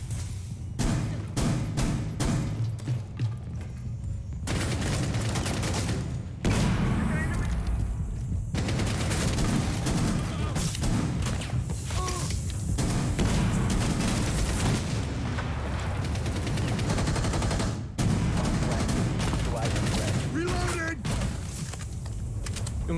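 Rapid gunfire from the tactical shooter game Rainbow Six Siege, with repeated loud bursts running throughout and players talking over the shots.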